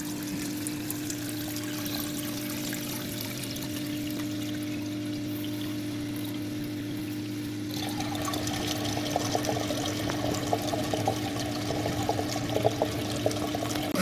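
Water from a Sunsun JTP 580 low-watt pond pump flows through a mushroom fitting, a steady continuous rush and trickle close by that grows slightly louder and busier halfway through, with no talking.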